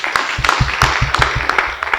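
Worshippers at a Swahili healing church service clap steadily for Jesus, a rhythmic pulse of sharp, fairly close claps repeating about every fifth of a second throughout.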